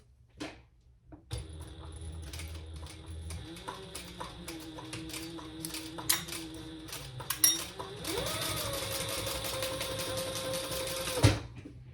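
A sewing machine runs steadily, stitching a seam allowance on a fabric pattern piece. Its motor hums with a fast even needle clatter, close and continuous, and picks up speed toward the end before stopping abruptly.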